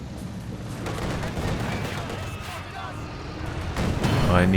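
Artillery barrage and gunfire in a competitive 2v2 strategy game match, a dense, continuous rumble of shelling and shots under running commentary, growing louder toward the end.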